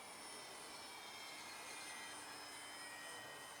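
A small Depron foam park flyer R/C plane's electric motor drones steadily at about one-third throttle, a thin continuous whine with faint high tones, fairly distant and without talk.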